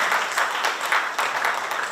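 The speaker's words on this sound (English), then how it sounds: "Clap, clap, clap, clap. Good stuff." Scattered audience clapping at a government press event on a college campus in Bluefield, steady and moderately loud for the whole stretch with distinct hand claps standing out.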